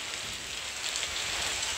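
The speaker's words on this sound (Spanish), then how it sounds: "Allá arriba mi casa, miren cómo está del aguacero." Heavy tropical downpour falling near a house in Florida, a dense continuous hiss of rain on surfaces at steady loudness, with no voices.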